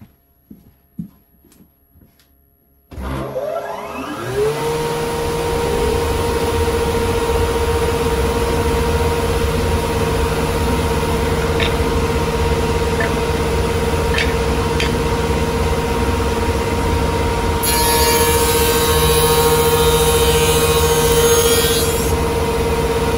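A spindle shaper starts up, spins to a steady loud hum and cuts a profile along 70 mm wide wood stock, with a brighter cutting rasp partway through the run.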